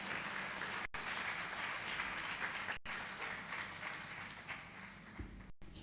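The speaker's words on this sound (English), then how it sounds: "You can't stop clapping. You have to continue clapping." An audience at a university congregation ceremony applauds continuously, dense steady clapping from many hands filling the hall without pause.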